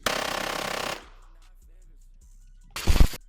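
A TX22 rifle firing a rapid burst of rounds at steel plates, a loud dense string of shots for about a second, then quiet, then another short loud burst.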